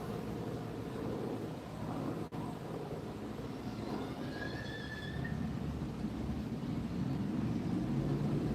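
A passing train makes a steady, dense rumble with metallic squeals over about eight seconds, moderately loud and continuous, with no talk.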